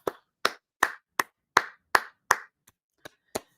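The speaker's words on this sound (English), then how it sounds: "another beautiful round of applause for someone who's about that action, Miss P." About ten sharp, separate hand claps at an even, unhurried rhythm, fairly close and loud, the last few spaced a little wider; they sound like one or a few people clapping rather than a full crowd.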